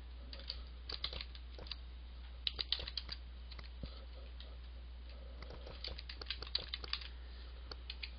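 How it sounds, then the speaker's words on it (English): A command being typed on a computer keyboard in a quiet room, soft scattered key taps in short bursts with brief pauses, no voices. "So we're going to type this command."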